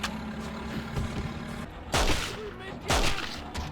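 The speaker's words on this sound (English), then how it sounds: "shoot him in the head and then he falls right out of the tower" Gunfire in a GameCube shooter game, with two heavy booming shots about a second apart that ring out over quieter game sounds and a low background rumble.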